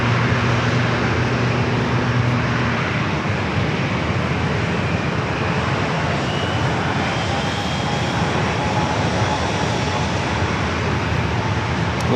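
An American Airlines jet bound for Charlotte departs San Diego airport after a quick turn onto the runway. Its engines give a loud, sustained roar that fills the whole stretch without letting up.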